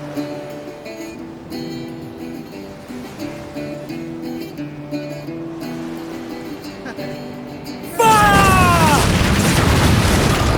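Ship cannons firing in Assassin's Creed Black Flag: after a stretch of background music, a loud sustained booming barrage erupts near the end, deep and rumbling.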